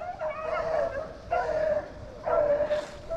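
Beagles on a mountain rabbit hunt give three short bursts of baying barks in quick succession, moderately close, with no talk over them.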